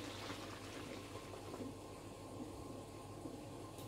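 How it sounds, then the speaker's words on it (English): Fizzy, bubbling liquid being shaken in a bottle, a steady close hiss and gurgle of foaming bubbles running throughout with no talk. "It's bubbling up, like, fizzy."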